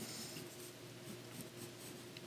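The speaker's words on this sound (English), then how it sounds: "just trace this off with pencil" Pencil lead tracing a leather pattern outline onto posterboard, a steady soft scratching and scraping that runs continuously and close up with no pauses.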